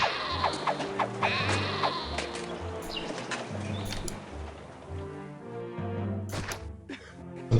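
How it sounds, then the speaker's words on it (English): Sheep bleat in the Caesar 3 city-building game, a few short calls over a looping game soundtrack and ambient effects, moderately quiet. "These are stubborn sheep."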